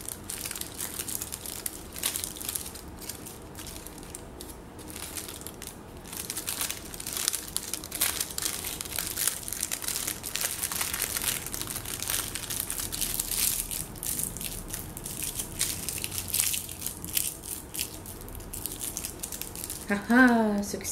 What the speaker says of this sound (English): now you get to hear the lovely sounds of me wrapping this back up.